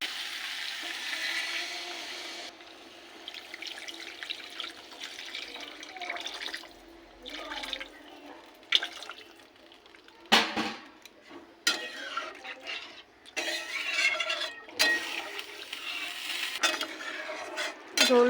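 Watery fish curry gravy with potatoes cooks in a pan, a bubbling sizzle joined by spoon clinks and scrapes against the metal, faint at first and growing busier with sharp utensil knocks later.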